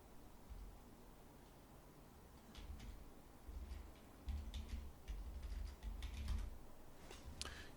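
Quiet, irregular clicking of a computer keyboard as a command is typed into Rhino 3D modelling software, scattered keystrokes in small bursts over a low background hum.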